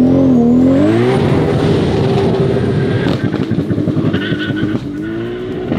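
A 900 hp sleeper car launching on a half-mile drag run, its engine revving and rising in pitch with tire squeal, loud and close at first, then a rough, fluttering roar as it pulls away, with no talk.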